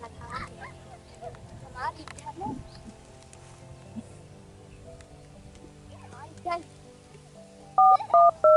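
Several short electronic keypad tones sound in a quick burst near the end, after a stretch of quiet background voices and rustling.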